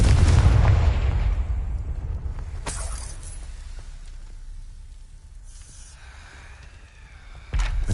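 Confringo blasting spell fired in Hogwarts Legacy, a loud booming burst at the start that decays into a long rumbling tail, followed by a few sharper cracks and a sudden new swell near the end.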